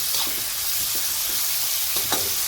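Tomatoes sauté in a hot pan with a close, steady sizzle, broken by repeated soft scrapes and stirring taps.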